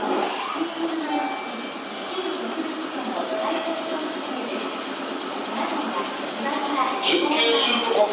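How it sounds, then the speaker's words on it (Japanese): A Meitetsu 2200 series train departs Kanayama station, a steady rolling rumble with rail clatter and a brief high squeal near the end, heard amid station ambience and a background announcement. "電車が発車します。"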